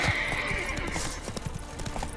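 The horse Roach gallops in The Witcher 3, rapid rhythmic hoofbeats pounding close under a high whistling wind tone, with a snort near the start.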